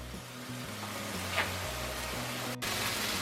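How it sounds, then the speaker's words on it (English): Taco meat frying on a Blackstone griddle, a soft, even sizzle heard alone at low level with a faint low hum underneath and one brief dropout. "let's get this meat cooked up"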